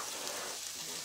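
Sausage with fennel frying in a pan for pasta, a steady broadband sizzle that holds level and fairly close throughout the brief moment, with no talk.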